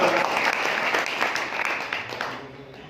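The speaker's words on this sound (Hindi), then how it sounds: "जरा अपने लिए ताली बजा लीजिए एक बार।" Audience clapping at a Gita discourse gathering in Badnawar, a steady dense round of applause from a seated crowd, loud and sustained before easing off slightly near the end.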